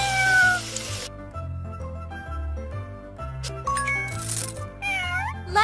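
Cartoon cat meows in a superhero kids' video game, short upward cries heard a few times over cheerful background music with chime effects.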